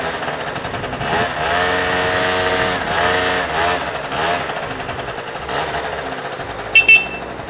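A PGO Hot 50 moped engine idles steadily just after starting, with a continuous buzzing, rattling drone at close range and a couple of brief sharp knocks near the end.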